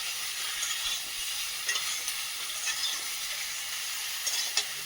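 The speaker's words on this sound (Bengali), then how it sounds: "এর মধ্যে একটু লবণ দিয়ে ভালো করে ভেজে নেব" Onion sizzles in a hot pan with salt as a spatula stirs it, a steady close frying hiss with a few sharp scrapes and taps, no voices.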